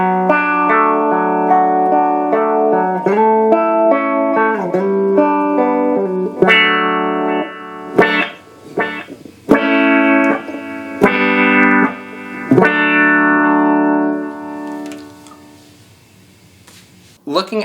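An electric guitar played through an effects pedal with all knobs freshly changed gives bright, sustained notes with wavering pitch bends and a few sharp plucked accents, ringing out and decaying to near silence at the end.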